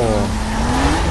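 A racing car engine in Need for Speed Most Wanted drones steadily and grows louder as it approaches, its pitch sliding upward, continuous and loud throughout the short moment.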